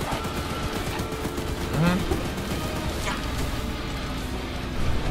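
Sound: weapon gunfire in the video game Choo Choo Charles

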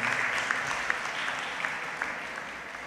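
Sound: congregation applauding at priestly ordination

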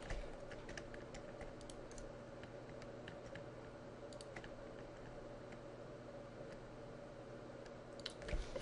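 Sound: typing on a computer keyboard

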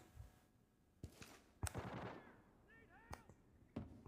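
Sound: gunfire in the video game Arena Breakout

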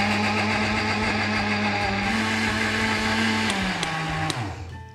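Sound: Faberlic blender making beet and orange smoothie

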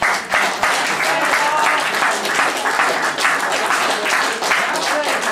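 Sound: audience applause for the singer's mother

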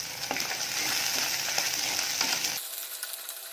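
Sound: small onions sautéing in a pan with rock salt

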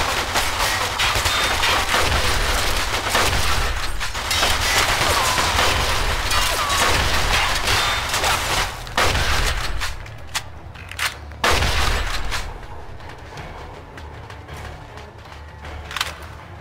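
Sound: gunfire in Mafia 2 video game

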